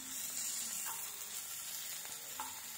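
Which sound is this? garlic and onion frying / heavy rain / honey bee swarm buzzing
garlic and onion frying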